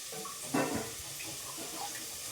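Water runs briefly from a kitchen tap during cooking, a short gush of about a quarter second that rises out of a quiet background hiss.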